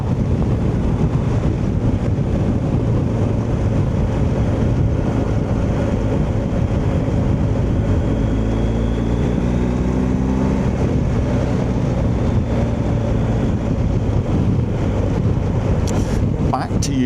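A 2024 BMW R1250 GS Adventure motorcycle riding on the road gives a constant low engine drone under heavy rushing wind, loud and unbroken throughout, with faint speech underneath.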